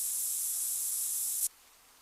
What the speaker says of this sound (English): I'm actually going to stop and use scent eliminator one more time.